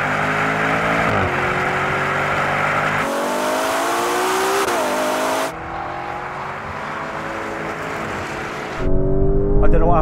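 A Ferrari Purosangue and a Lamborghini Urus Performante roar hard through the gears in a rolling race from 50 mph, engine notes rising and dropping with shifts, loud and close for the whole stretch.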